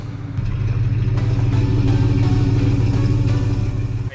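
A pickup truck engine idles steadily with a minor exhaust leak, a loud, close, continuous low rumble with a faint clattering texture and no voices.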